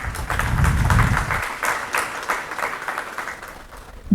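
Crowd applause from an audience at a talk on Indian startups, a dense wash of many hands clapping that swells loud at first, then thins and tapers off.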